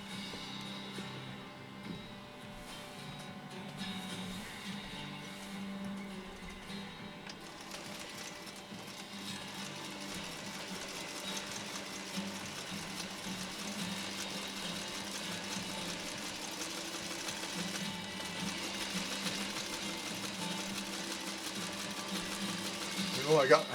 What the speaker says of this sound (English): We're going to sew over the pucker a couple of times.